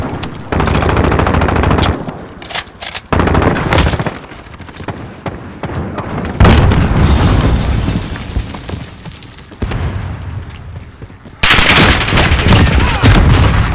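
Heavy missile strikes and explosions roar in a military shooter game, loud blasts and sustained rumbling in several long bursts separated by short drops, with rapid gunfire mixed in and occasional voice callouts.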